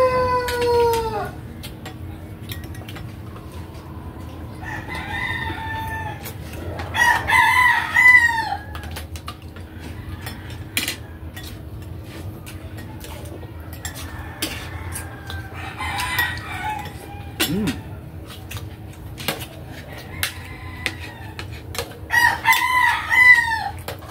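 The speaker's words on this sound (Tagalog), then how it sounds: "kasi maraming manok dito" Several roosters crow repeatedly, some near and some farther off, their calls overlapping at intervals over a quiet outdoor background.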